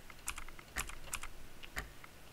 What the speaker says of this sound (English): I just type out fencer and be done